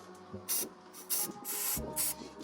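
Rust-protection coating sprayed onto the underbody of a Scion tC, coming in four bursts of hissing aerosol spray separated by short pauses, with low background hum between bursts.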